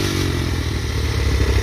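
A pit bike engine idles steadily and slightly high close by, a rough, fast-puttering drone with some rattly clatter and no voices, its carburetor needing cleaning.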